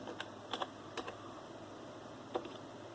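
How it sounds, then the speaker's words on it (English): A web address typed on the keyboard of an old Dell Dimension 2400 desktop computer: a few scattered, quiet key clicks in small clusters, alone in a hushed room. "let's type in msn.com"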